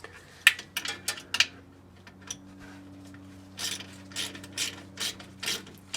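A ratchet tightens the rear cover bolts on a Ford 7.25 rear end, with sharp close clicks in short bursts, then a series of quicker, lighter ratcheting runs.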